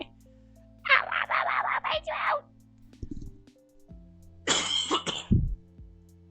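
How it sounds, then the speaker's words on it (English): A rapid burst of harsh coughs, then another short coughing fit a few seconds later, over steady background tones. "I need to have a mute button so I can cough"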